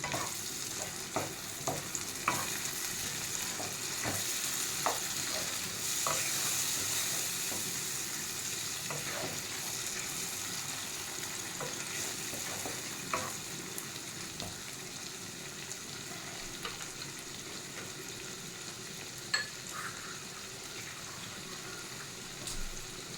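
Prawn pulao masala with garam masala and a little cream is stirred steadily in a pan, soft sizzling under frequent scraping spoon clicks throughout, fairly quiet and with no voices.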